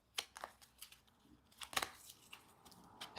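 A deck of game cards for the board game Gates is shuffled by hand, giving a string of crisp, papery riffles and snaps in uneven bursts, close and fairly quiet, with no voices.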